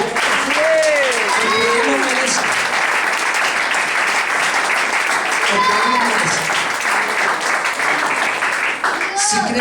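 Loud, dense applause fills a church gathering for nearly ten seconds, with voices calling out and a preacher speaking over the clapping.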